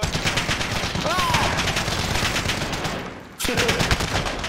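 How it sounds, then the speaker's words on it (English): Rapid automatic gunfire from the video game Warzone crackles continuously in dense bursts, with a short pause before another burst, loud and close, with no talk over it. "I'm being shot at."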